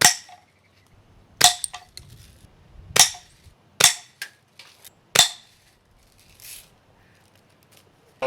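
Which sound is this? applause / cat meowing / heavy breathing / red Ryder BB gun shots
red Ryder BB gun shots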